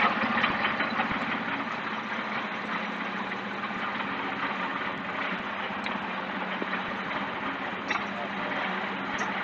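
An engine running at a high idle RPM, steady and continuous with a low mechanical hum and light knocking texture, close and unchanging throughout.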